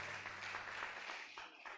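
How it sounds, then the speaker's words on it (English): Audience applause for a professor at a University of Ibadan workshop, a steady wash of many hands clapping that stays fairly even and moderately loud across the moment, with no voices standing out. "Please, another round of applause for Professor"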